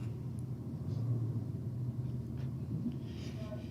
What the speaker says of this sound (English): he's fired up the Commodore